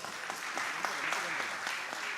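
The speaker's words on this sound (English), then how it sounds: "I heartily welcome Mr. Devraj K with a big round of applause" An audience claps warmly to welcome a speaker at a business networking event, a sustained round of dense applause heard fairly close, with some voices mixed in.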